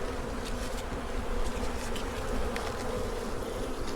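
Swarm of angry honey bees buzzing loudly around an opened hive of improperly framed brood boxes, a dense continuous drone close to the listener with no voices.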